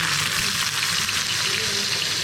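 Chicken pieces dipped in water and frying in hot oil give a loud, steady, dense sizzle that fills the whole stretch, close up with no talk.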